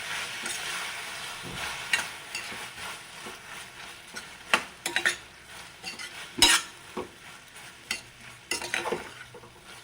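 Tomatoes for paneer kurma being stirred in a pan, with a soft frying hiss under scattered scraping and metallic clinks that grow busier toward the end, close by and with no talking.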